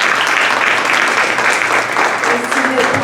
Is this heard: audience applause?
yes